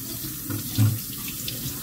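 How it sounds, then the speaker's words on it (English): Warm tap water runs steadily in a kitchen sink while hands are washed, a continuous close hiss and splash with no talking. "I'm going to start by washing my hands."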